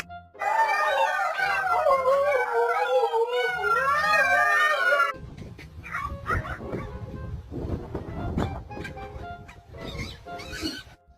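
Several puppies in a box inside a moving car howl together in a loud, wavering chorus for about five seconds, then give way to scattered whimpers and yelps over road noise.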